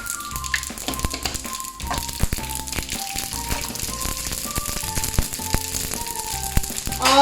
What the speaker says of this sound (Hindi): अब एक पैन में मैंने ऑयल लिया है, और जैसे ही ऑयल गर्म होता है तो मैं उसमें मस्टर्ड सीड्स डालूंगी, और मैं उसमें सेसमे सीड्स भी डालूंगी